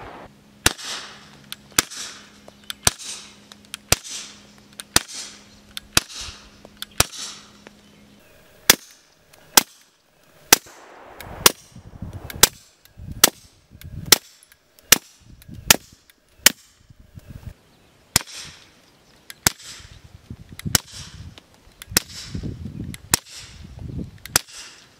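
Suppressed gunshots fired through Liberty Mystic X and Infinity X suppressors, around twenty sharp, muted cracks in an irregular series, some spaced evenly and others in quick pairs, each followed by a brief fading tail.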